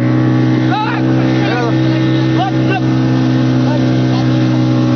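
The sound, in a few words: motorboat engine running at sea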